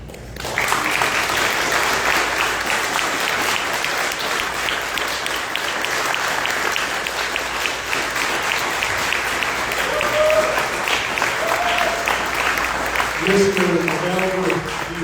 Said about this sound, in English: So I think we owe them a round of applause.